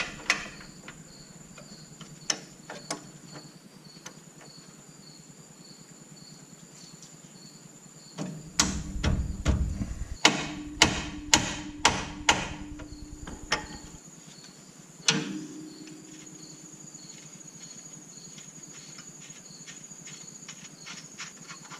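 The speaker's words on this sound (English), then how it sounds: "I got a big crescent wrench. So we'll see if we can loosen her up this way." A big crescent wrench working loose a nut under a 1994 Ford F150 4x4, giving a burst of sharp metallic clicks and ratcheting knocks mid-clip, close and fairly loud, with quiet stretches on either side.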